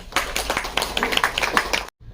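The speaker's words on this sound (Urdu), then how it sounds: "تالیوں سے استقبال" Clapping from an audience welcoming a professor to the microphone at an Urdu literary gathering, a lively, uneven patter of hands mixed with faint voices, ending in a sudden cut.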